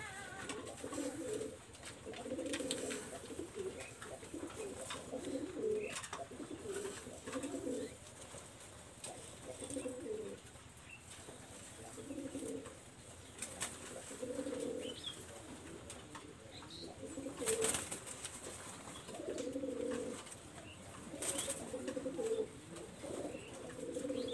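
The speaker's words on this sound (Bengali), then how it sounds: "আমি এখন একটা ডাবলা একটা ফিমেল কবুতর দেখাচ্ছি" A female pigeon coos softly and repeatedly in short throaty phrases at an even rhythm, close by, with faint chirps and occasional clicks in the background.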